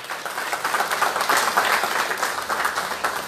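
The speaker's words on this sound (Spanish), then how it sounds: "Un aplauso, por favor." Audience applause at a public cattle handover ceremony in Jiquipilas, Mexico, a full, sustained wash of many hands clapping at moderate distance and building gently through the clip.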